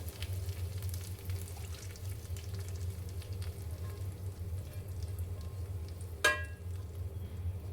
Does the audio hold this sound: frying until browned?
yes